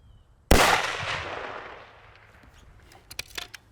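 A single loud pistol shot aimed at a distant long-range target, a sharp crack followed by a long rolling decay, then faint clicks and rattles.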